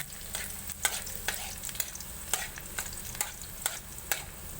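Garlic frying in a pan until brown, a steady sizzle broken by repeated scraping stirs at a fairly regular pace, close and alone with no talk.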